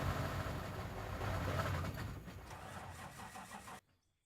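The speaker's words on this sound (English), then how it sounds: "I just hear someone repeatedly starting in the truck." Truck engine in the Out of Ore mining game cranking and catching repeatedly, a steady mid-level rumble with rhythmic pulses that cuts off abruptly near the end.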